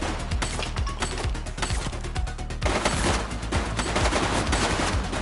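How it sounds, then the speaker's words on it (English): Rapid, dense gunfire from a police shootout in the video game The Precinct, with overlapping bursts of shots and automatic fire sustained throughout at steady, loud intensity. "Shots fired!"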